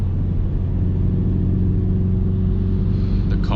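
A Ford Focus RS engine drones as a steady, loud low rumble while the car drives along an open road, the tone holding even with slight rises in revs.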